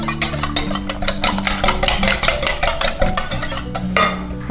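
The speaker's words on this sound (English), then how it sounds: "So stir gently to combine." A spoon stirs protein waffle batter with brown sugar in a bowl, giving a steady run of scraping, clicking strokes close by with a constant low hum beneath and no talk.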